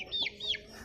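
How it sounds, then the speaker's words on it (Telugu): Chickens on a farm give two quick, close clucking calls, each a short rising squawk, over a low background hum. "ఇవి కోళ్ళు చూడండి ఆడ ఏం చేస్తున్నాయో"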